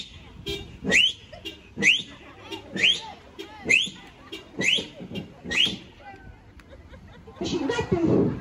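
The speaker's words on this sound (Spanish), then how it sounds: "Si yo chiflo, tú tocas una vez la bocina." Sharp rising whistles alternate with short vehicle horn toots in a regular back-and-forth pattern, six or seven pairs at a brisk rhythm, then a burst of crowd noise at the end, at a street comedy show.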